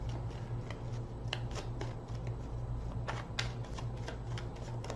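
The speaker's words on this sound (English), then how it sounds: "3 more shuffles." A deck of tarot cards is shuffled by hand in quiet close-up, with soft riffling and sharp card snaps repeating irregularly against a low steady hum.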